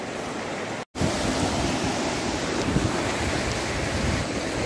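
River water rushes with strong pressure, a loud continuous roar close by that drowns out everything else after a brief cut near the start.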